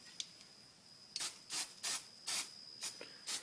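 Short bursts of spray paint from an aerosol can aimed at the exhaust of a Can-Am Renegade ATV during an exhaust wrap job, six separate hissing blasts spaced about half a second apart, close by, with a faint steady tone underneath.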